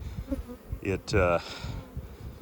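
Honey bees buzz close by around a hive frame, a droning hum that swells and fades, with a few louder bursts as insects pass near.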